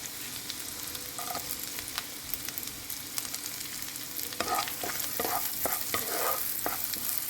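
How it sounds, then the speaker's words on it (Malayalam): Green chillies frying in a pan for a Kerala-style egg roast, a constant close sizzle with bursts of stirring scrapes and clinks toward the end, no voices. "ഇനി പച്ചമുളക് ഇടാം"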